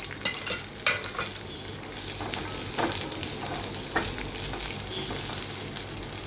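Small onions, garlic cloves, a piece of ginger and green chillies fry in hot oil with a dense, constant sizzle, broken by close scraping stirs of a spoon against the pan.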